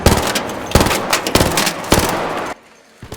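Rapid automatic gunfire in the ARC Raiders video game, shooting at a snitch drone, loud dense bursts of shots broken by brief pauses before cutting off.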